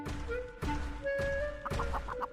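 A hen clucks repeatedly in an animated Jack and the Beanstalk fairy tale, several bright, close clucks in an uneven rhythm.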